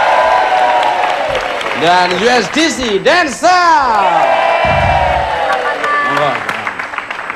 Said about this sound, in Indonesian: Kita beri tepuk tangan sekali untuk Marcel